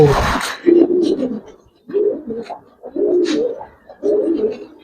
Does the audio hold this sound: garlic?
no